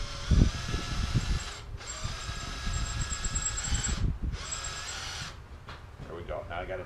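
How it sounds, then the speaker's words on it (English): A power drill bores slowly under heavy pressure into a stainless steel steering link for an Axial SCX10 RC crawler, a steady whining drone broken by two short pauses, with low knocks and handling noise beneath and quiet talk near the end. "I'll hold the drill level. Stainless, a lot of pressure, slow speed."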